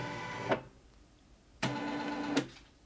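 A Brother PE-190D embroidery machine moving its carriage around the sewing area, with short motorized whirring runs broken by brief pauses, quiet and close.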